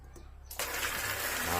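After a quiet moment, high-pressure tap water suddenly gushes out hard and keeps running in a loud, steady rush.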